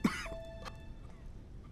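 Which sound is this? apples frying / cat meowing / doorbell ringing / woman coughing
woman coughing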